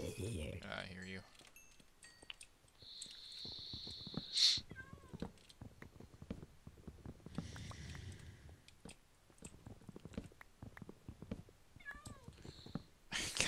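A pet cat meows several times nearby during a cooperative video game session, short distinct cries standing out over quiet game sounds and occasional talk.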